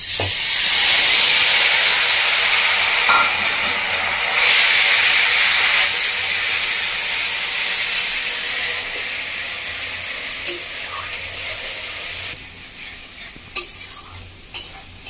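Onion paste hits hot oil in a pan with a loud, broad hiss that slowly fades, followed later by sharp clinks and scrapes of a utensil against the pan, close and without talk.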